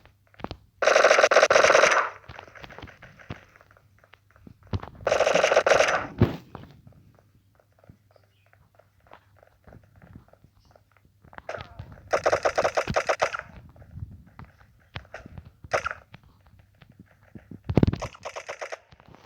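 Video game gunfire in Block Strike, with several loud rapid bursts of automatic shots separated by short pauses and scattered single shots, heard alone without talk.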